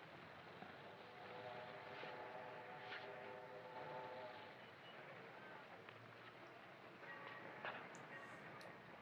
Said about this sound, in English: you can hear a train in the background